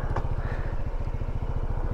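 An Honda ADV160 scooter idles at the Banaue rice terraces viewpoint, its engine putting out an even, steady low chug with quick regular pulses, close and moderately loud, with no voices.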